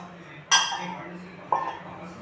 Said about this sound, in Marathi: तो आता क्रश करून घ्या थोडा थोडा. इथेच ताटात मस्त असं दाबून घेतो.